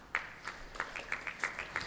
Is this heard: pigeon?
no